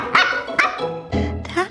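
Sealyham Terrier puppies yapping, several sharp high barks and yips in quick succession, close and loud, with no clear talk over them.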